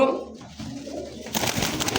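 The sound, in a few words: pigeons cooing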